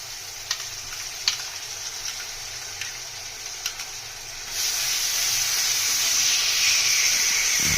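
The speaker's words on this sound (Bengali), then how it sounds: "পেঁয়াজটা ভাজা হয়ে গেছে আমরা আদা রসুন বাটা দিয়ে দেবো" A steady sizzling hiss of ginger-garlic paste frying with onions in a pan, growing louder and fuller midway, with a few faint clicks early on; no talking.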